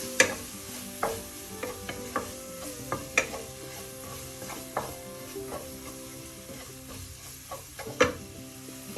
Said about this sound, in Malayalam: മഞ്ഞൾപ്പൊടി ആ ഓയിലിലോട്ട് ചേർക്കാം. ആ എണ്ണയിൽ കിടന്നൊന്ന് അത് ഒന്ന് മൂക്കണം.